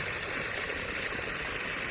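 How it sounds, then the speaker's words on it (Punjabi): Water gushes steadily from a 3-inch pipe in a constant, loud, even rush with no pauses and no other sounds. "5 ਇੰਚੀ ਪਾਇਪ ਆ ਤੇ 3 ਇੰਚੀ ਸਿੱਧਾ ਪਾਣੀ ਜਾ ਰਿਹਾ"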